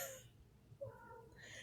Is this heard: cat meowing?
yes